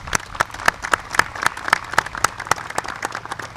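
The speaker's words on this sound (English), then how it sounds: "let's all give a round of applause to everyone and all the competitors" Applause at the Northeast Amateur golf tournament awards for the competitors, a small crowd's steady, moderately quiet clapping with evenly spaced sharp claps.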